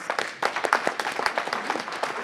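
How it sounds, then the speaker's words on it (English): Scattered applause at a city council meeting, a smallish group clapping in uneven bursts after a short pause, with no talk. "let's give him a round of applause"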